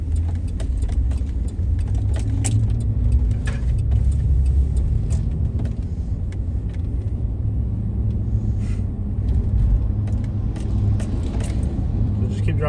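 Car driving along the coast road by the beach in Daytona Beach, Florida, a steady low engine and road rumble inside the cabin with occasional rattles and clicks, while people talk over it.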